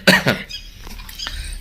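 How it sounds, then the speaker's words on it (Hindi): A couple of quick, sharp coughs up close, followed by faint rustling and small sounds in a quiet room. "खांसी आ गई थी"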